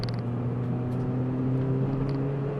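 Toyota Celica T230 1.8 VVTi climbing a hill, its engine holding a steady low drone with tonal harmonics and faint creaks and rattles from the cabin, close and continuous without talk.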